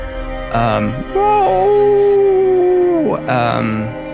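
A person vocally imitates the bone-chilling howl of two creatures in unison, giving a long wavering howl with rising and falling pitch, close and loud, framed by short voiced yelps.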